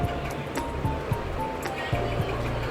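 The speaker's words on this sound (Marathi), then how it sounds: "आम्ही समुद्रावरती आलेलो आहोत आणि बघू शकता हवा किती मस्त सुटते" Wind blows across the sea shore at Somnath, with waves washing in beneath it: a broad, steady rush broken by low buffeting gusts against the microphone.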